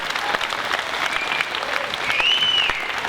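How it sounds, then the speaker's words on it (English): An audience gives speaker Cristina Williams a sustained round of applause, continuous dense clapping with a few whoops and cheers rising through it. "Give her a round of applause."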